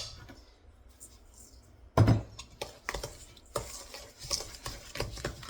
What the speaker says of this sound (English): I'm going to sprinkle slowly, and then I'm going to stir it